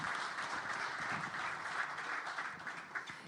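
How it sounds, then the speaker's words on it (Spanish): An audience at a current-affairs and markets talk gives a warm round of applause to welcome a panelist, a dense, sustained clapping that continues throughout at moderate distance. "Por favor, un aplauso para Jorge."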